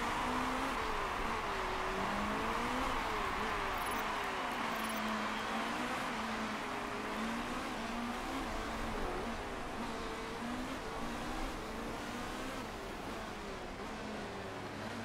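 Race cars lapping in the Motorsport Manager racing game, a steady continuous engine drone with shifting tonal pitch that rises and falls throughout, loud and unbroken.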